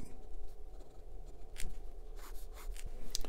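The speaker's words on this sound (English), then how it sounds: "when I first wrote with this pen, it was very, very dry indeed" Steel fine nib of a Majohn Moonman S7 eyedropper fountain pen scratches across paper in short, close strokes, a soft dry scritching with brief pauses and no talking.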